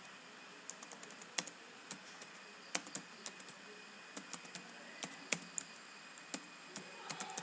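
Steady typing on a computer keyboard while writing in MS Word, a quick run of soft key clicks with occasional sharper taps, close and alone with no talking.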